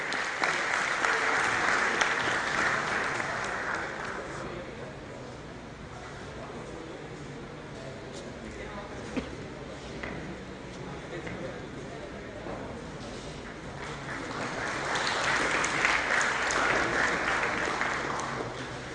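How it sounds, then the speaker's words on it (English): Big round of applause from the audience for the chief guest at an annual college commerce day event, loud sustained clapping that swells at the start, eases through the middle and surges again near the end, with some crowd murmur. "Ladies and gentlemen, please a big round of applause for the chief guest of the day today"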